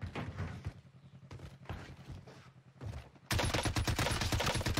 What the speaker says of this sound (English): I'm pretty sure they're shooting down at people.